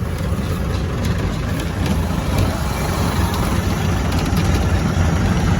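Steady low rumble of idling bus engines at a bus stand in Punjab fills the air, constant and close with no pauses.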